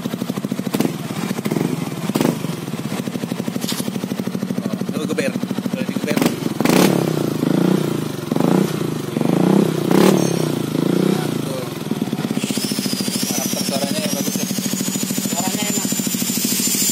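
A motorcycle fitted with a new Faton exhaust idles and revs in several throaty bursts, with voices talking nearby and a high whine near the end.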